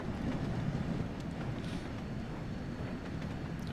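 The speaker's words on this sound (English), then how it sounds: "bit of an external shot there of the train just passing through" A steam passenger train passes through a short covered section in Train Sim World 2 on Xbox Series X, giving a faint, steady rumbling rush with wind-like noise and no talk.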